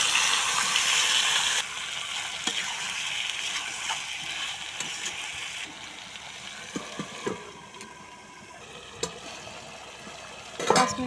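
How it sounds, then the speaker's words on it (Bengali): Broiler chicken tipped into a hot pan of cumin, garam masala and chopped onion in a village-style kitchen, with a loud burst of sizzling that settles into steady frying and intermittent stirring scrapes. No voices. "এখন চিকেনটা দিয়ে দিব।"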